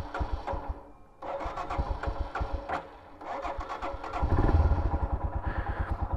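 A 2021 Royal Enfield Himalayan motorcycle with idling issues at high elevation cranks and catches, its engine sputtering unevenly before settling into a louder, steady thumping idle; close and alone.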